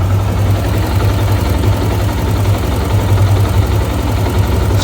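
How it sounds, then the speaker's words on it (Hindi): A Yamaha YBR125 motorcycle engine idles steadily after carburetor mixture tuning, a loud, even low rumble with a constant throb and no stumbling, running alone without talk. "अभी मैं आपको इंजन के साउंड सुनाता हूँ।"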